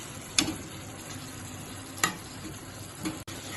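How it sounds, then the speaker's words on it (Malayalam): Beef fries over a medium flame in a pan, a steady close sizzle broken by a few sharp knocks of the stirring utensil, with no talk. "അപ്പൊ നമ്മൾ ഒരു മീഡിയം ഫ്ലെയിമിൽ ഇട്ടിട്ട് ഇങ്ങനെ മെല്ലെ കുക്ക് ചെയ്ത് വരട്ടി കൊണ്ടുവരും."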